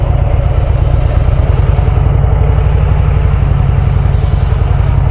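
Several Honda Gold Wing motorcycles idle nearby, giving a loud, steady low rumble with a fast, even pulse throughout and no speech over it.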